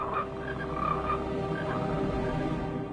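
Cartoon frog soldiers croak in a dense, continuous chorus of overlapping throaty calls, loud and close, with no voices over them.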